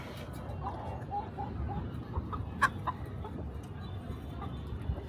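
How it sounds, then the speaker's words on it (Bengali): Chickens cluck softly over a constant low background rumble as a hen climbs onto a lift, with one sharper squawk midway. "আমাদের মুরগি লিফটে উঠতেছে"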